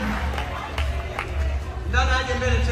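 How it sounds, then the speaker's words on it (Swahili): Audience applause for a music band at a comedy show, a dense steady patter of clapping mixed with crowd chatter and cheering, loud and close throughout. "Naomba tuwapigie kundi la muziki makofi mengi."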